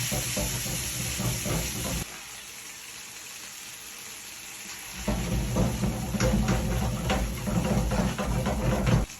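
Hot sauce hits a frying pan while making buffalo wings, and the close, crackling sizzle drops to a softer hiss for a few seconds before surging back louder and busier.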